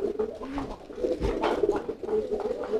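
A female pigeon bought at a market gives repeated low, throaty coos close by, in a rhythmic rumbling series with soft shuffling underneath.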